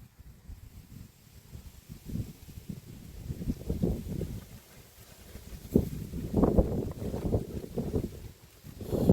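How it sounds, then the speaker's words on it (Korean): Wind buffets a microphone at a coastal fishing spot, gusting rumbles rising and falling in strong bursts throughout, with no one speaking. "생각보다 바람이 좀 부는데 큰일 났네"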